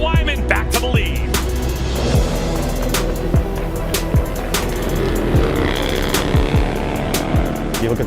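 Harley-Davidson bagger motorcycles race on a track, engines roaring loudly and continuously as bikes pass by in quick succession, with Doppler sweeps rising and falling.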